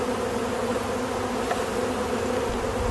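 Dense, steady buzzing of a large honeybee colony swarming around an open hive box during a spring inspection, loud and continuous throughout.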